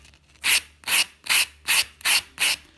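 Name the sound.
nail file filing the edges of nail capsules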